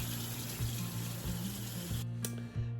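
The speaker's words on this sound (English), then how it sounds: "now I'm letting water run on my eggs to cool them down quickly" Tap water runs steadily over boiled eggs in a kitchen sink, a continuous close splashing stream with a few brief shifts in flow and no talk.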